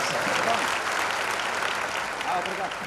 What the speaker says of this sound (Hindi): ताली मार के प्रभु को प्रशंसा करबा।